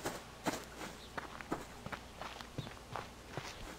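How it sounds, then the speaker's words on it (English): Footsteps in the survival video game Subsistence, a series of soft, evenly paced steps at roughly two per second, fairly quiet and without any speech. "I thought I heard footsteps."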